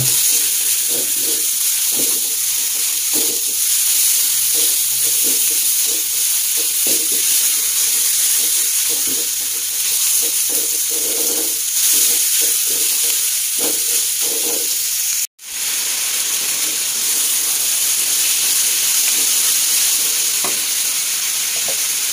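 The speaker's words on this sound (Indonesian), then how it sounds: "Ini digongso ya sampai ayamnya berubah warna." Chicken pieces stir-fried in a pan for Sundanese ayam serundeng, a steady loud sizzle with frequent scraping and stirring strokes throughout, briefly cutting out once before the frying resumes.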